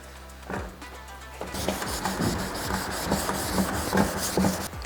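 Steady scratchy rubbing of wet-sanding a yellowed car headlight with a foam pad, back-and-forth strokes close by, with no talking.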